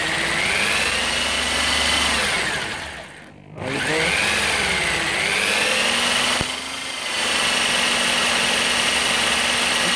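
A squirrel-cage induction motor spun by an electric drill, working as a generator, hums and whines with shifting pitch as speed changes, dipping briefly twice before returning to a constant drone.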